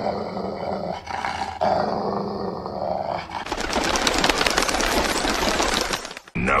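A dog in the Batman animated series growls low and menacingly, then breaks into a loud, rapid, harsh snarling roar for the second half before cutting off.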